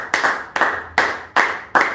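A church congregation at a Holy Communion service claps together in a steady rhythm, five strong unison claps about every half second, loud and close, with no speech.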